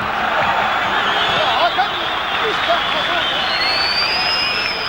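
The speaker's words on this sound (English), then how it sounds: "they're really giving the boo birds to the Dutch side at the moment" Turkish football crowd booing the Dutch side at a 1998 World Cup qualifier between Turkey and the Netherlands, a dense, sustained stadium roar of jeers and whistles holding steady throughout, loud and continuous with a rising whistle near the end.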